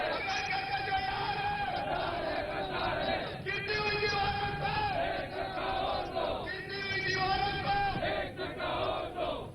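Protesters at a rally in Peshawar against Israel chant in unison, a loud, continuous crowd roar with rising and falling slogan phrases repeated throughout.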